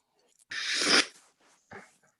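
A single loud, sharp sneeze bursts out, followed by a brief quieter sniff or exhale a moment later.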